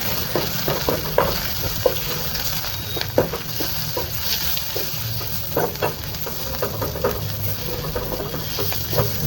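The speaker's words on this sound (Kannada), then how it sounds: "ಲೈಟಾಗಿ ಸ್ವಲ್ಪ ಹಾಕೊಂಡು ಅದನ್ನು ನೀಟಾಗಿ ಫ್ರೈ ಮಾಡ್ಕೊಳ್ಳೋಣ." Ginger garlic paste frying in a pan for a paneer gravy, a loud, close crackling sizzle dotted with frequent spatter pops and stirring clicks throughout, with no talking.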